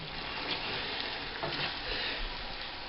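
Kraft Dinner macaroni being stirred with milk in a pot over low heat, a soft steady wet sizzle and gentle scraping, close and continuous with no talking.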